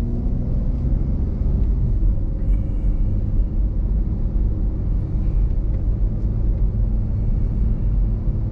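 School bus passing on a town street, a heavy low engine rumble that stays loud and steady throughout, with road noise and no talking.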